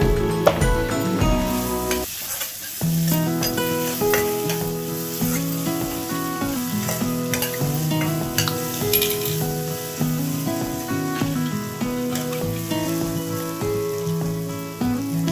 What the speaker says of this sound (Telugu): ఉల్లిపాయ, పచ్చిమిరపకాయ అన్నీ వేగిపోయినాయి కదా కూరగాయలు